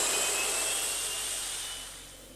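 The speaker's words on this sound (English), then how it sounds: "when the aeroplane finally took off" An aeroplane taking off, a loud, steady jet roar with a high whine that gradually fades as it pulls away, no voices.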